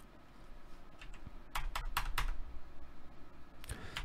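Quick bursts of keystrokes on a computer keyboard sound close and quiet. The clusters of clicks are irregular, with short pauses between them.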